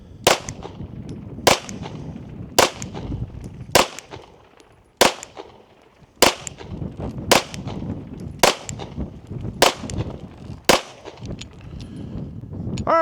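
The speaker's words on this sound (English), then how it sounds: "let's see if we can shoot just a little bit better group this time" Rost Martin RM1C pistol fired at a target, about ten sharp, loud shots evenly spaced roughly a second apart, each with a brief echoing tail, no talk in between.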